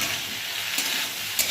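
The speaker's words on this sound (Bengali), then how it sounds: "এবার আরেকটু ভালো করে নাড়াচাড়া করব" Chopped tomato fries in a pan while it is stirred, giving a steady, soft hiss with two brief scraping accents from the spoon.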